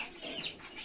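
A rooster clucking while being fed gives a short, close, throaty burst of clucks lasting under a second, with no talking.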